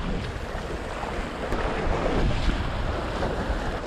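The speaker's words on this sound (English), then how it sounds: "The wind has dropped a little bit." Wind blowing along the rocky coast of Tainaron cape in southern Greece, with a steady, moderate rush of air and surf washing in the background, no voices.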